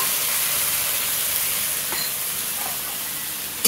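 Cumin, chili paste and turmeric frying in hot oil, a steady loud sizzling hiss that continues throughout, ending with a short sharp clink near the end.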